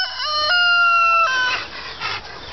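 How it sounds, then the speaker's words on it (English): A rooster or hen gives a loud, close, drawn-out crowing call followed by softer clucks and rustling near a farm chicken coop. "You gonna tell the chickens to go back in the coop?"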